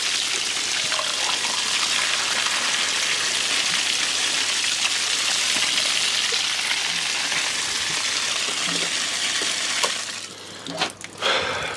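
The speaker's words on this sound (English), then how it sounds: "As you can see, it's ready to pump because their well's full. So what I'll do is I'll switch it on." A water pump pushes filtered groundwater from a full well toward a tank for irrigation, giving a loud, steady rushing and splashing hiss that runs unbroken for about ten seconds before breaking into uneven gurgles near the end.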